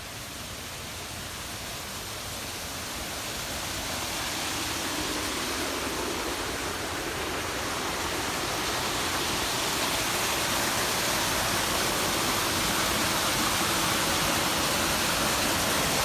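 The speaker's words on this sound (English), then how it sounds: "Got to show you this amazing waterfall." A waterfall along an Arran trail gives a continuous broadband roar that swells slightly louder over the first few seconds, then holds steady and close, with no voices.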